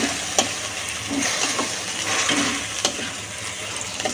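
Green chili paste hisses and sizzles in a hot pan for chicken, with a steady broadband fry broken by several sharp scraping clicks of a spoon stirring, close and fairly loud with no talking.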